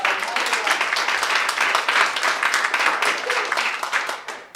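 An audience at a State of the City address breaks into dense, steady applause that fades at the end.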